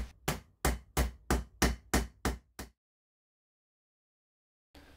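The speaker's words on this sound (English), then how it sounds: "After multiple hammer blows, thankfully all avoiding my thumbs" Hammer blows set rivets in buffer beams: nine sharp, close metallic strikes land in a quick steady rhythm, then silence follows before one more blow at the very end.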